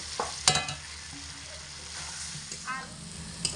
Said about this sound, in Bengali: তো ওই ভেজে রাখা আলু আমি এর মধ্যে দিয়ে দিচ্ছি